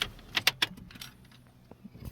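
Car keys, a set of two for a used car, jangle in a few bright metallic bursts close by, followed by quieter clinks and handling sounds.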